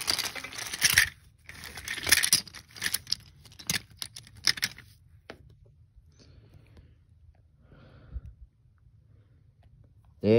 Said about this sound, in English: It was a huge crash.